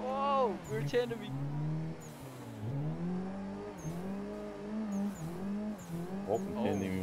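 Cars tandem drifting in a racing video game give off sweeping engine whines that rise and fall repeatedly, with tire screech bursts, while people talk excitedly over the sound.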